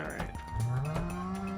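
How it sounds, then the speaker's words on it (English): A cow in the farming video game Stardew Valley lets out a single low, drawn-out moo that slides upward in pitch, heard clearly over soft in-game background sounds. "I love it when the cows blurp."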